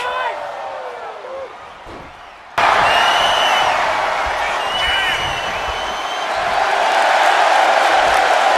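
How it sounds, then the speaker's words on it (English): A wrestling show crowd bursts into loud, sustained cheering and roaring after a brief quieter stretch, swelling toward the end with whoops mixed in. "And the crowd goes wild."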